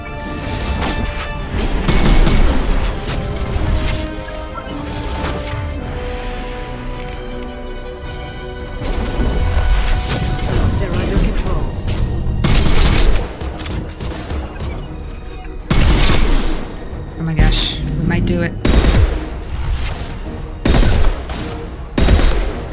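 Heavy gunfire and explosions from combat in Mass Effect 2 on Veteran difficulty, with loud bursts of shots, booms and crashes coming in waves, close and dense throughout.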